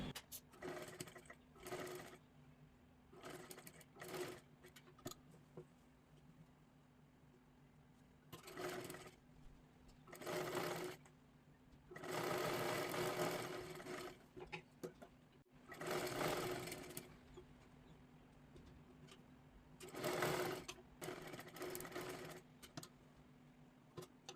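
Short repeated bursts of a sewing machine stitching a blouse, each run lasting a second or two with pauses between, fairly quiet and close-up.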